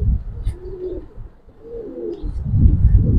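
Giribaz pigeons in a loft coo in low, rolling, throaty phrases, several overlapping calls close by over a rumbling background.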